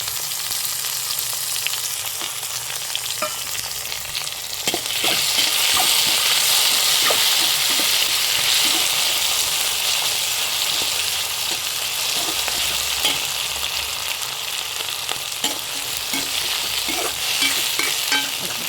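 Tomatoes go into a hot pan and sauté, a loud continuous sizzle that swells once they are added, with frequent scraping and clicking stir strokes close by throughout.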